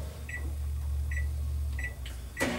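A steady low hum of a microwave oven heating soft plastic for fishing baits, with faint, short electronic chirps sounding every second or so over the drone.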